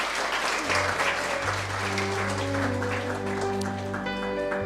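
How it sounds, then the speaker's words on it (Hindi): A crowd at a Brahma Kumaris World Environment Day gathering applauds loudly and steadily, a dense sustained wash of clapping with a faint tonal hum beneath and little talk. "ज़ोरदार तालियां हमारे भाई के लिए।"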